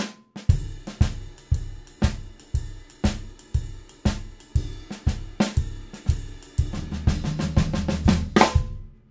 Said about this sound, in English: I'm going to play the shuffle ride cymbal pattern